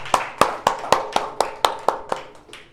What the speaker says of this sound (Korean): 다시 한번 영광의 박수 한번 주님께 올려드리기를 원합니다.